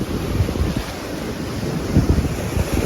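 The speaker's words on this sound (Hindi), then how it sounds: "समुद्र की लहरों के साथ लहर ले रहे हैं।" Sea waves at Murudeshwar beach wash and break in a continuous rough roar, with wind buffeting the microphone and surges growing louder near the end.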